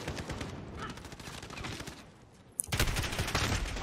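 Pistol gunfire in Call of Duty Modern Warfare 2019 multiplayer: rapid repeated shots in a busy burst, a sharp crack near the middle, then a louder dense flurry of shots.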